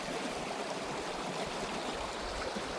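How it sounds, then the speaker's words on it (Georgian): A mountain river in Racha, Georgia, near its source, rushing steadily as a close, continuous broadband roar of flowing water with no pauses and no voices. "ნახე, აქ როგორი მდინარე იბადება."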